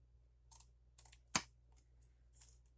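Scissors cut through paper while an envelope is made from a 6 x 6 paper pad, giving a few short snips close by, with one sharp loud snip near the middle and fainter cuts after it, no talking.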